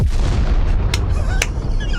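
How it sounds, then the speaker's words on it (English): A cartoonish explosion sound effect set off after a "fire in the hole" cue, loud and sustained: a deep rumbling blast with a couple of sharp crackling bursts riding on top, no voices over it. "I'll blow it up because I want to use my explosion sound."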